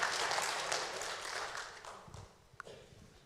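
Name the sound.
audience clapping hands at a Vanuatu fellowship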